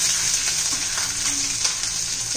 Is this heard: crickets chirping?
no